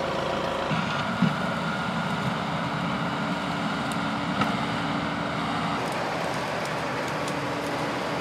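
Kubota M5-111 tractor engine running while clearing brush for a food plot, a steady mid-distance drone with a constant low rumble and faint clanks over it.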